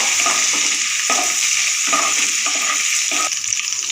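Bay leaves, cardamom pods, cinnamon pieces and cloves frying in hot oil for basanti pulao, a steady loud sizzle broken by regular scrapes of a spatula stirring the whole spices, no voices.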